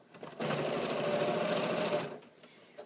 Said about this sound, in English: I'm going to stitch with a 1/4 inch seam.